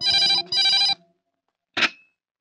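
A telephone rings in a 1990s Bollywood action film, giving two loud, close bursts of trilling bell followed by a short, sharp ring after a pause.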